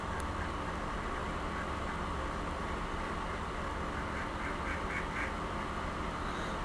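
Several neighborhood ducks quacking outdoors, short repeated calls at moderate distance over steady broadband background noise, with no talking.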